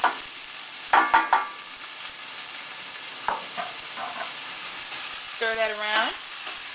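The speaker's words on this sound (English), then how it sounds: "That cumin is nicely sauteing in the pan. Now we're going to add our onions." Chopped onions go into a pan where cumin is already sautéing and start frying, giving a steady near sizzle with a few stirring scrapes, while a voice speaks briefly over it.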